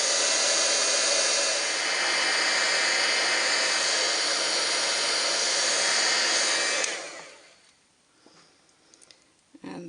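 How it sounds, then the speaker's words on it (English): A heat gun blows on copper embossing for a wreath, giving a loud, steady, broadband whoosh that holds for about seven seconds before dropping off into quiet handling sounds. "I'm going to make a noise now with the heat gun."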